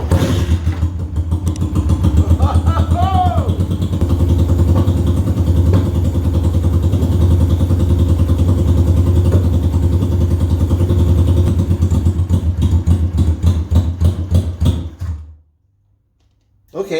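Motorcycle left sitting for years, cranked on a cold day with the choke needed, sputters into a loud, close idle that chugs steadily for about fifteen seconds, then cuts off abruptly into silence.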